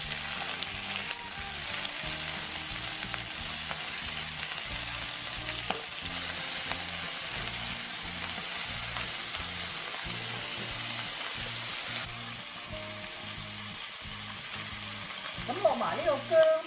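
Chicken drumettes sizzling in a pan after being flipped, giving a continuous close frying crackle with faint background hum and a brief voice near the end.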